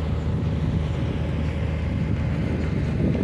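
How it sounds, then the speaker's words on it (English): Wind buffeting a handheld microphone during an outdoor morning walk in Whitby on a gloomy day, a continuous low rumbling roar that stays loud and steady throughout with no clear voices. "I bet there'll be wind noise as well because the wind's just gone up."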